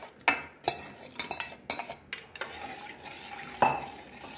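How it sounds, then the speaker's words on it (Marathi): Ground rice is stirred into a pan for dhirde batter, a spoon scraping and clinking against the metal in quick irregular strokes over a soft sizzle, close up and with no talk. "सारखं हलवत राहायचं कारण लगेच गोळे व्हायला तयार होतात."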